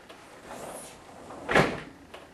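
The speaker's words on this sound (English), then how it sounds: "just lift up the lock, drop it back into the catch cup, give it a couple of twists, it's locked in place" A sliding patio door security lock is dropped into its catch cup and twisted, giving a soft scrape followed by one sharper metallic clunk and a brief light tap, close and clear with no talking.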